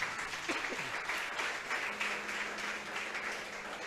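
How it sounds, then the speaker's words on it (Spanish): A church congregation claps together in a fairly soft, continuous round of applause that holds steady for a few seconds, heard at a distance. "Vamos a darle un aplauso grande a Dios"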